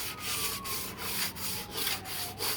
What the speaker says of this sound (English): we're not talking about massive sanding here